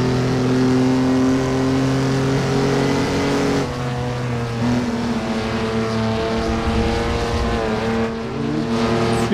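Jaguar C-Type race car in Assetto Corsa, circling the Feldbergring: a loud, steady engine drone with strong harmonic tones that shift pitch through gear changes around four and eight seconds, continuous and up close.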